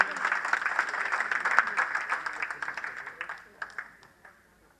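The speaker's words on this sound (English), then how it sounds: "Please, a round of applause here." An audience at an awards ceremony gives a round of applause for an award recipient, a sustained burst of clapping that thins to scattered claps and dies away.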